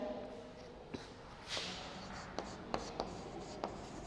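Chalk or marker writing on a board during a Sanskrit grammar lesson: a handful of short, sharp strokes and taps spaced irregularly, fairly close, over quiet room tone with no talk.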